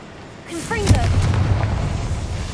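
Confringo spell blast in the Hogwarts Legacy video game: a swooping magical whoosh into a deep, rumbling boom that keeps roaring and crackling after the hit, loud and close, with no talk over it.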